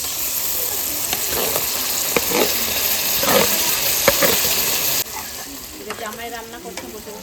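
Onions fry with ginger, garlic and chili spices in a pan, giving a steady close sizzle broken by a few stirring scrapes and clicks, with the frying tone shifting partway through.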